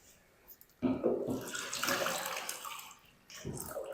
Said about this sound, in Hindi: पहले हम बाउल में पानी शामिल करेंगे ताकि ये जो दाल इसके अंदर रह चुकी है ये सारी बाहर आ जाए